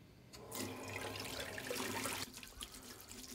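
Hands washed under a running tap, a loud steady rush of water into a basin that starts abruptly, then thins into lighter splashing as the hands move, no talking.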